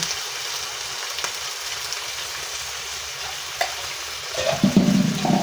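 Mushrooms frying in margarine in a pan, a steady close sizzle with occasional stirring scrapes, the sizzle turning busier and more crackly near the end.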